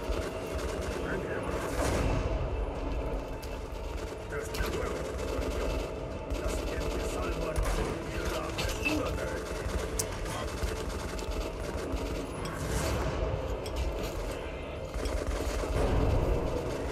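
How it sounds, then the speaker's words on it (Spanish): Sustained machine gun fire from the video game Metro Last Light Redux, dense rapid bursts that run steadily throughout under a thick, noisy game soundscape. "A ver, ametralladora."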